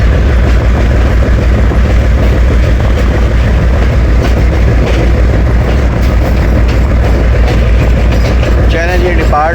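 The 2 DN Shuttle Train from Lala Musa Junction to Sargodha Junction runs along a branch line, its loud, steady clatter and rumble filling the cabin, with a brief wheel squeal near the end.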